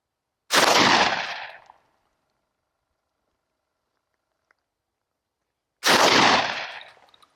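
A Derya Lion LP101 semi-automatic smoothbore shotgun fires a slug outdoors: two loud, sharp blasts about five seconds apart, each trailing into a short echoing decay, with silence between.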